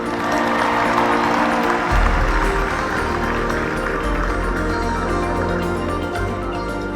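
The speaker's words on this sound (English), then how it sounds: "Please give yourself a round of applause." Steady applause from a large crowd fills the space, sustained and even throughout with no pauses.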